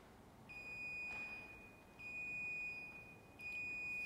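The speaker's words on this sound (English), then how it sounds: "So you can hear the beeps are getting faster and faster." Electronic beeps from an Exerfly motorized squat machine sound as three sustained high tones separated by short gaps, steady and clear over a quiet hum.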